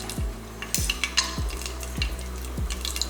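A single cardamom pod, stone flower and a small piece of cinnamon broken in two hit hot oil for parotta salna, crackling and sizzling close by, with about five spoon-stirring scrapes spaced roughly evenly across the pan.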